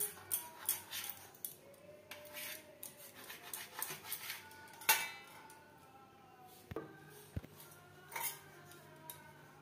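A knife slices through bread loaf for a malai toast recipe, a series of quiet scraping and crisp sawing strokes with a few sharp ticks and taps, close by and without speech.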